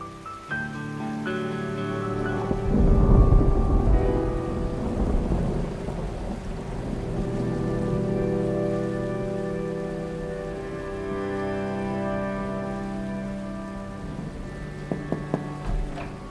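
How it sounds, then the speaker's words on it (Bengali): Heavy rain with thunder, a steady wash of rainfall under deep rolling thunder that swells early on and then rumbles on more softly, together with a sustained tonal background, and no speech. "বৃষ্টি তো কমছে না স্যার"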